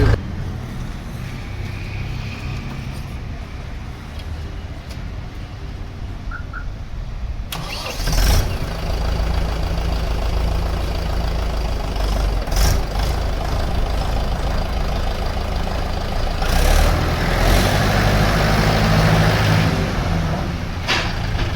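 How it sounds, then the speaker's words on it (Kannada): A Mahindra 475 DI XP Plus tractor engine starts up partway through, then settles into a steady, loud, close diesel rumble that runs to the end with no talking over it. "ಈ ಟ್ರ್ಯಾಕ್ಟರ್ನ ಸೌಂಡಿಗೋಸ್ಕರನೇ ತುಂಬ ಜನ ಲೈಕ್ ಮಾಡ್ತಾರೆ."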